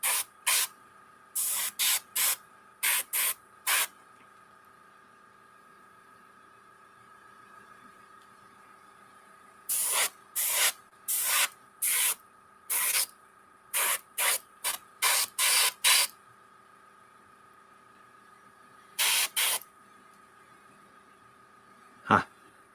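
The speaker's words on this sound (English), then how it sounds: "That's why I wasn't spraying." Paint is sprayed onto a miniature model figure of the Botanist in sharp, hissing bursts that come in several quick clusters separated by silent pauses, with no one talking.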